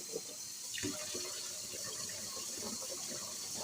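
Tap water runs steadily into a cooking pot for boiling noodles, a continuous close hiss and splash with a slight shift in tone as the pot fills, with no talk.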